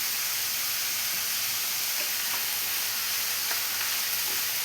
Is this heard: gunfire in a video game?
no